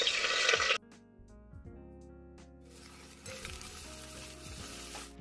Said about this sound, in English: We're just going to fry the onions.